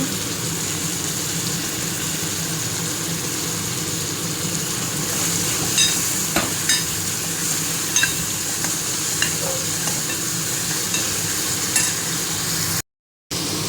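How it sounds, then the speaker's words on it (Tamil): Onion, tomato and garlic sautéing in a pan give a steady, loud sizzle throughout, with occasional scraping stirs and small clicks of the utensil, with no talk. "வெங்காயம், தக்காளி, பூண்டு எல்லாம் நல்லா வதங்கிடுச்சு."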